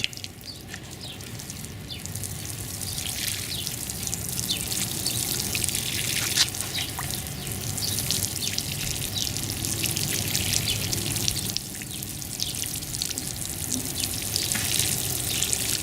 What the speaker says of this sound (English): The water filling up the holes there.